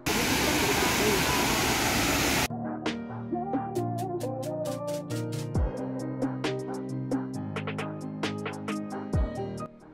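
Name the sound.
waterfall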